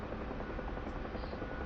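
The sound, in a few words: Huey helicopter main rotor turning in autorotation, from video game DCS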